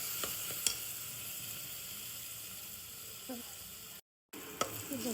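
Green ground masala paste with tomato and onion sautés in a pan, a soft continuous sizzle and hiss with a few light stirring clicks, fairly quiet and broken by a brief dropout near the end.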